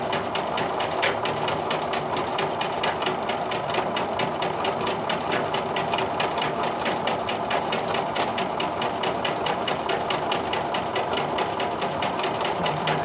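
A sewing machine stitches a quilt pattern of triangles with maze filler, running steadily and continuously at close range with a fast rapid needle rhythm throughout, and no talking.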